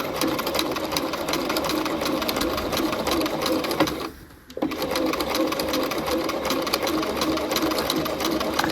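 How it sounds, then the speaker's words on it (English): A sewing machine stitches a jacket seam in a steady, rapid, loud whir, close to the listener. It stops briefly midway for a pivot, then resumes at full speed. "I am sewing at 3/8."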